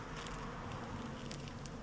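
Honeybees hum and buzz around a hive in a steady, close drone, with faint rustling beneath and no talking.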